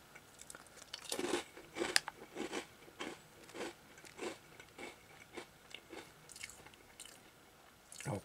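Bakauke rice crackers, takoyaki flavour, crunched close to the mouth in a steady rhythm of about a dozen crisp bites and chews, each a short crackly burst, with no talking.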